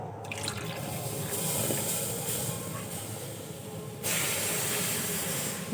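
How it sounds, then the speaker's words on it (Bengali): Liquid milk is poured into a bowl of semolina, giving a continuous hissing, trickling stream that steps up abruptly and grows louder near the end, with no talking. "এই একই বাটি মেপে আমি দুই বাটি দুধ দিয়ে দেবো"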